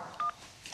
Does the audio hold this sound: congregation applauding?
no